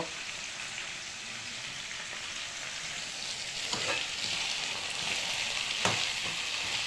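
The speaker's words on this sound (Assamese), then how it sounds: "এয়া হৈছে পিঁয়াজ ভাজি আছোঁ এতিয়া" Onions fry in a pan for a local chicken curry, a steady close sizzle and hiss with a couple of sharp utensil knocks against the pan, no voices.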